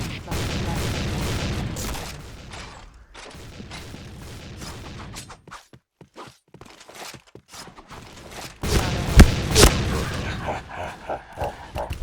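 Gunfire and explosions from the Point Blank shooter game crackle in bursts with scattered sharp shots and a loud blast near the end, mixed with in-game noise and players talking.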